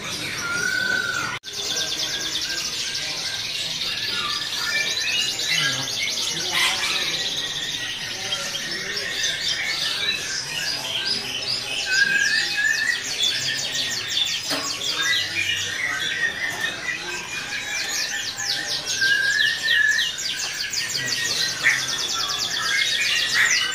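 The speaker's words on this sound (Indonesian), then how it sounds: "ini sampel burung kenari loper yang gacorannya ya pemirsa nih" A loper canary sings continuously in long, rapid trills and chirps, bright and close, with faint background noise.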